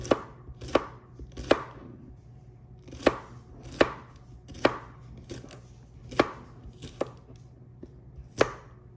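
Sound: knife thinly slicing okra

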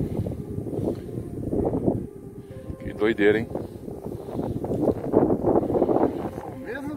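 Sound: wind blowing outdoors

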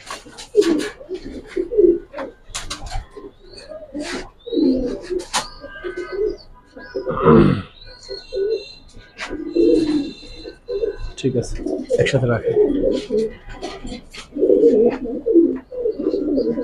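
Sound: military and racer pigeons cooing

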